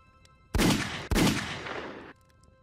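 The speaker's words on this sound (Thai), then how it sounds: "เสียงปืนก็ดังเผ็ดลั่นขึ้นมา" Two loud, close gunshots roughly half a second apart, each a sharp blast with a ringing decay, used as a sound effect in a Thai audio story about a night hunt in the forest; no talk over them.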